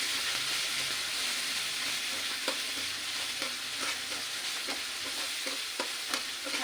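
Sautéing in a pan for a spicy Marathi-style fish curry, a constant loud hissing fry with regular soft stirring scrapes and taps throughout.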